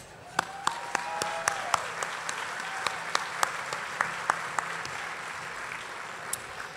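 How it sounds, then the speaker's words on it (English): An audience at an organization's update meeting gives a round of applause for its president, with a steady bed of clapping and a few sharp, nearby individual claps standing out throughout. "I want to ask you to give a big round of applause for our president, Davita Stike."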